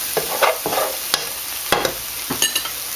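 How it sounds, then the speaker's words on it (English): Spoon stirring paprika around in a cooking pan, producing several sharp scraping strokes and taps against the metal close up, over a faint sizzle with no talking. "We're going to stir that around."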